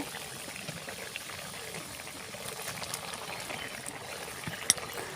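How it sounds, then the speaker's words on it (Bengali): A pot of spicy curry water for puti fish with green tomatoes comes to a boil, making a faint, continuous bubbling simmer with one brief knock near the end. "এখন মোটামুটি জলটা ফুটে উঠেছে"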